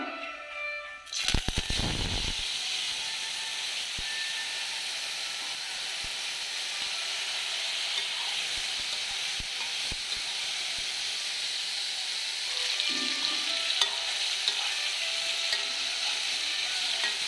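Washed jujube fruit frying in a pan for a sweet pickle, a steady loud sizzle and hiss with occasional scrapes of stirring, after a brief clatter at the start.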